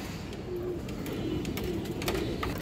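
Pigeons coo softly at a pigeon farm, repeating a few low, murmuring calls that stay faint and somewhat distant over a quiet background.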